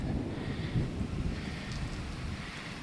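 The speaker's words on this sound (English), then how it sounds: "we got a little bit of a thunderstorm rolling in." Steady rain and wind from an approaching thunderstorm, a broad low rumbling wash with no distinct thunder claps, continuous and moderately loud outdoors near the microphone.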